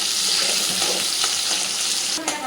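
Tomatoes fry in a pan with a loud, dense, continuous sizzle held close and steady throughout, a faint scrape of stirring breaking through near the end; no one talks.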